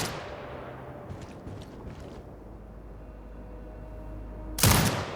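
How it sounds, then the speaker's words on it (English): An automated turret in Sniper Ghost Warrior Contracts 2 fires near the end: a sudden loud, close burst of gunfire after a quiet stretch of low ambient rumble and a few faint distant thumps. "Exit binocular mode and command the turret to fire."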